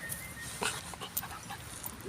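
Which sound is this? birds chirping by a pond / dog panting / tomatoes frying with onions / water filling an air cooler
dog panting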